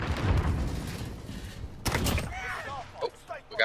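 Rapid bursts of gunfire and explosive booms in a first-person shooter video game match, loud and dense at first, followed by sharper isolated shots, with players talking over the action.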